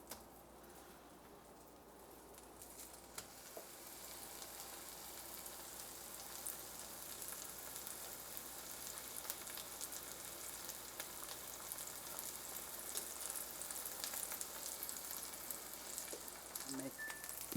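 Tomato rings frying in butter in a pan, a steady close hiss of sizzling that slowly grows fuller, with occasional small pops and crackles throughout.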